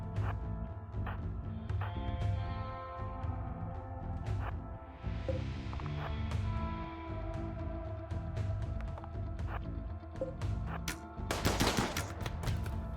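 Gunfire from shooters in a RimWorld battle, with rapid bursts of small, clicky shots over a steady low background and a denser volley near the end.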